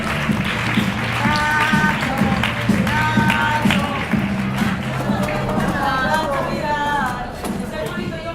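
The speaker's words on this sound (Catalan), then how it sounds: "anem a donar-li un fort aplaudiment per al nostre jurat" Audience applause for the jury at the close of a Catalan show edition: steady, dense clapping that fills the room for several seconds, with a voice and some tonal sounds running underneath.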